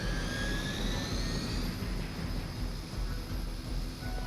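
A helicopter in the video game Marvel's Midnight Suns, heard as a steady, loud engine roar and rotor drone that holds throughout with no talking.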